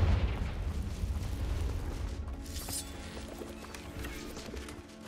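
Confringo blasting spell exploding in the video game Hogwarts Legacy, a rumbling burst that fades into a continuous noisy wash with scattered crackles, loud at first and slowly settling.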